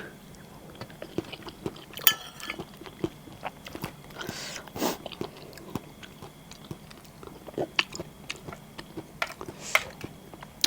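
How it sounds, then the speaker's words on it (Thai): Crunchy, wet chewing and biting of a yellow amanita mushroom curry, eaten close to the ear with repeated bites and a faint steady background hum, and no talking. "มากินเห็ดละงูอยู่แล้วนะคะพี่น้อง"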